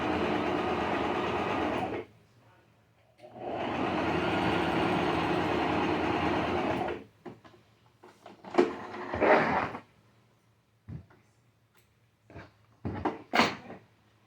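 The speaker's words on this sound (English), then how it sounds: "don't pull your fabric. Just let it glide through your machine" A home sewing machine stitches fabric being basted for a sewing project, with two long, steady bursts of motor hum followed by several short clicks and brief stops, close and clear with no talking.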